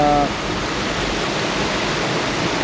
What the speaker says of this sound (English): Sitting here at the edge of a massive waterfall